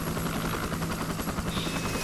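Helicopter in the video game ARMA II, its rotor chopping in a rapid, steady rhythm under a loud engine whine, close and continuous, with no talking.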